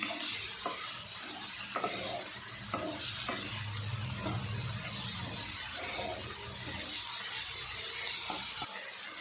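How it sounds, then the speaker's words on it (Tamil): Mint and coriander leaves stirred into tomato chutney in a hot pan, a constant soft sizzle with regular scraping strokes of the spoon, fairly quiet and without any voice. "கொத்தமல்லியை புதினா தழையை சேர்த்துட்டு நல்லா கலந்து எடுத்துக்குவோம்"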